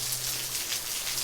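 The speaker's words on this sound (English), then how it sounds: "It's quite a rain here." Rain falls steadily outside a garage, a dense, even hiss of drops on surfaces with no breaks, close and moderately loud.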